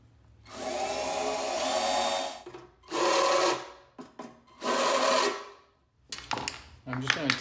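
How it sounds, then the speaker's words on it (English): A power drill whines in three separate bursts of a few seconds each, drilling clearance holes in sheet metal, with short pauses and small handling clicks in between. "Drilling clearance holes for number 6 screws."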